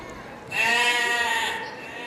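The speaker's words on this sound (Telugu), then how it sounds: "పాపం గొర్రె బిక్కుబిక్కుమంటూ వెళ్ళింది." One drawn-out, quavering sheep bleat, fairly loud and close, rising out of a quiet background and fading away.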